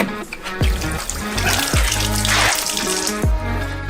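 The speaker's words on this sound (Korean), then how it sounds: "수박을 수도꼭지로 가져가서 흙을 깨끗이 씻어내요." Tap water gushes and splashes over a whole watermelon held under an outdoor faucet to rinse off soil, a loud close rushing stream with uneven spatters and knocks as the fruit is turned.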